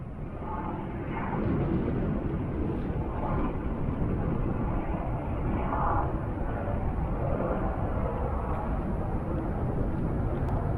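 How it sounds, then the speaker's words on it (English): A helicopter carrying a slung load flies over the Alps near Zermatt, heard as a broad, steady roar with a low throb, fairly distant and constant, with faint voices over it. "So there goes a helicopter that is carrying something."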